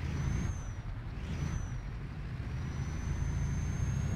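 Scania truck hauling a very heavy load on a narrow road in Euro Truck Simulator 2, a steady low engine drone rumbling throughout with faint high whines drifting above it, no voices.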